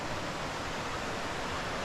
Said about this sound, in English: Little bitty waterfall.